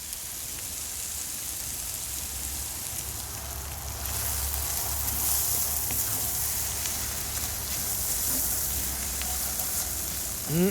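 Sloppy joe meat sizzles steadily in a hot cast iron pan outdoors, a dense crackling hiss that grows a little louder partway through, with soft rain-like patter mixed in.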